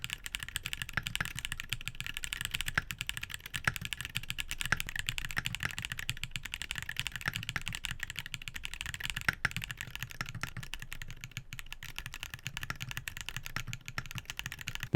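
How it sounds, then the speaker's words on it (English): TTC Magneto Hall effect keyboard switches typed in a fast, continuous run of light clacks, close and steady for the whole stretch with no voices. "here are the sound tests for the three Magneto switches"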